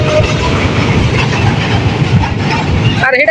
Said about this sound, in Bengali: ভাই ট্রেন যাইতেছে, ট্রেন।